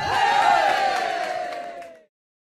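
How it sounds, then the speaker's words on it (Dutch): A live concert crowd cheers loudly, a dense wash of yells and whoops that holds for about two seconds and then cuts off abruptly. "Applaus voor jezelf"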